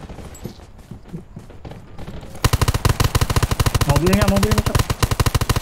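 Rapid automatic gunfire in the online shooter game Undawn during a PvP supply-camp battle, starting with scattered shots and then a loud, sustained burst of fast repeating shots while a player speaks over it.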